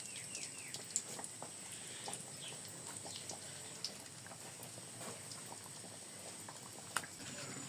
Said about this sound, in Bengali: বাকি নিমকিগুলো ঠিক একইভাবে ভেজে নিব